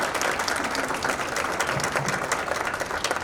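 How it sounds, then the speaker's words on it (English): Steady audience applause at a panel forum, dense even clapping from a crowd filling the whole stretch at moderate loudness, no voices on top. "Let's give Ms. Perez a round of applause"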